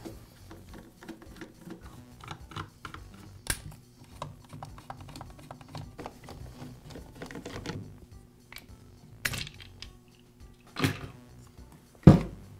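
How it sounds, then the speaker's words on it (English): Starter assembly being taken off a Poulan chainsaw during a bar bolt repair: scattered close-up clicks, scrapes and plastic knocks with a few sharper thunks, irregular and fairly quiet, no talking. "Now remove the starter assembly."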